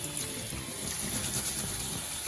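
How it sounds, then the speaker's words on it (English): Rice is rinsed under a running kitchen tap before going into a pot for kedgeree, giving a steady close gush and splash of water that holds at an even level with no talk. "good old rinse first of all under running water"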